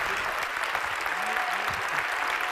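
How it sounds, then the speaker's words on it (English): An audience claps steadily and warmly, a dense wash of applause that carries on throughout. "Round of applause for Dr."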